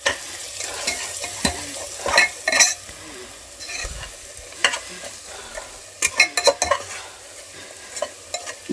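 Rajma rice with a little garam masala being stirred in a pan, a spoon scraping and clinking against the metal in irregular bursts over a soft sizzle, close and fairly loud with no talking.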